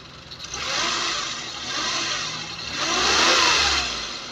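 A Suzuki Every Wagon 4WD automatic engine revs up twice under an open hood, the loud broadband roar rising, easing off, then swelling again close by with no talk.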